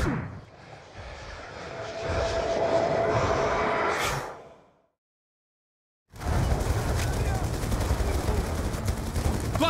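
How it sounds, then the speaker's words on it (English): A minigun on a downed command VTOL fires in Call of Duty Black Ops II, a loud, continuous rattling roar mixed with engine drone. It fades to about two seconds of silence, then resumes just as loud. "We're receiving heavy fire from its minigun"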